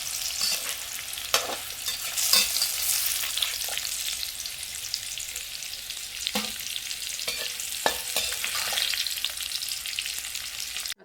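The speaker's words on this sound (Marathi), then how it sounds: "आणि ती फ्राय होईपर्यंत परतून घ्यायची" Spiny gourd (kantola) pieces stir-fry in hot oil with a continuous close sizzle, punctuated by occasional clicks and scrapes of a spatula, with no voices.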